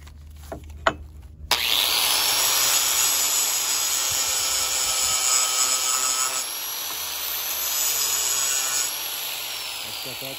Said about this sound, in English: so I'm going to grind some off on this side first